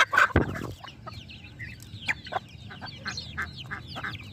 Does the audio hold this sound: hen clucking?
yes